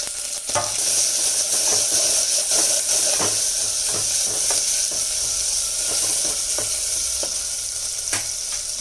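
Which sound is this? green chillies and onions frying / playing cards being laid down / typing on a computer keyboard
green chillies and onions frying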